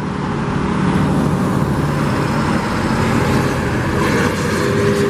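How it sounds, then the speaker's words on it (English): Trucks drive past on a road beside a Las Vegas Raiders headquarters construction site, a loud, continuous rumble of heavy traffic that stays steady throughout with no voices. "a lot of truck noise going by."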